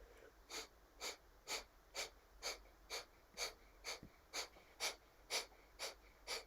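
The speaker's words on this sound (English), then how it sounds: "And start with the breath of fire." Rapid, rhythmic breath-of-fire yoga breathing: about a dozen sharp, evenly spaced nasal exhalations, close and fairly quiet over faint room hiss, with no talking.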